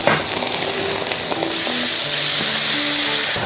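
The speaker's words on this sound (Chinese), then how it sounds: "所有料一起炒，炒香过后加点清水。" Seasonings for pickled-fish stew stir-fried in a hot wok, a loud, steady sizzle with scraping stirs and faint clinks throughout, no voices.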